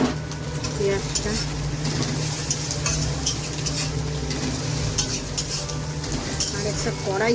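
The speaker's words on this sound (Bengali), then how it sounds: "এই যে পেঁয়াজ ভাজা বসিয়েছি" Onions sizzle in hot oil in a kadai (wok) while a utensil stirs and scrapes them, a steady close frying hiss with light clinks throughout.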